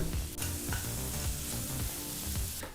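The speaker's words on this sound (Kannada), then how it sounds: "ಟೊಮೊಟೊ ಹಣ್ಣು ಚೆನ್ನಾಗಿ ಬೆಂದು ಸಾಫ್ಟ್ ಆಗಬೇಕು ಅಂದರೆ ಮೃದು ಆಗಬೇಕು ಅಲ್ಲಿವರೆಗೂ ಇದನ್ನು ಫ್ರೈ ಮಾಡ್ಕೋಬೇಕಾಗತ್ತೆ" Tomatoes and onions fry in a pan for a lady finger fry, giving a loud continuous sizzle with occasional stirring scrapes, close and with no voices.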